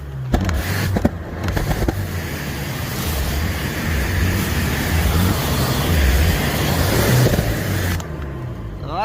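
A Range Rover 2.0 diesel engine after turbo failure and replacement revs hard and continuously, a loud rough roar with a rumbling low end, alongside scattered knocks and clanks.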